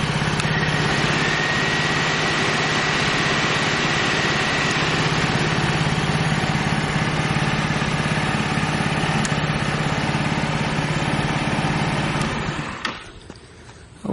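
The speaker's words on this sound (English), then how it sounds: "And the fan comes right on." Oil cooler fan running on an idling GY6 scooter engine, a steady close drone with a faint high whine that holds for about twelve seconds and then drops away abruptly, with no talk.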